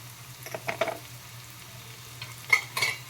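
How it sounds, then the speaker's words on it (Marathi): Spices, including coriander powder, red chilli powder and turmeric, are stirred in a pan over a low hum: two short bursts of scraping and sizzle, one early and one late, close by, with no talking. "हे सर्व हलवून घेत आहे"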